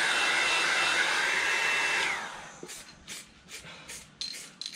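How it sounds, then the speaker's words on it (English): A heat gun blows hot air onto primer on rusty car bodywork in the cold, a loud steady broadband whoosh for about two seconds that then cuts off, leaving faint scattered knocks and handling sounds. "normally I wouldn't be doing this with a heat gun, it's just because it is cold out"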